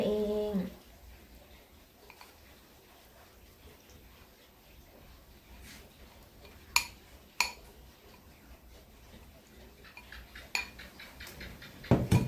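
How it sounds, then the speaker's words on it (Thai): Chopped jackfruit is stirred into muffin batter in a bowl, with soft scraping punctuated by sharp clinks of a utensil against the bowl, close and intermittent, growing busier toward the end. "แล้วเราก็คนนะคะ ให้พอเข้ากัน"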